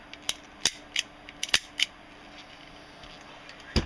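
Screws tightened on a 1984 Crosman 38T air pistol, heard as a handful of crisp, close metallic clicks and ticks spaced irregularly, then a short quiet stretch and one final sharper click.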